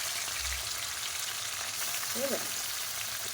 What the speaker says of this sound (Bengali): মাছগুলো সুন্দর করে ভেজে নিই